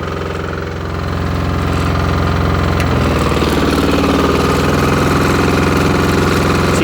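An MEP 831A generator engine with a faulty governor runs continuously, a loud steady mechanical drone that rises slightly in pitch near the start and then holds level without the expected climb in speed, with no talk.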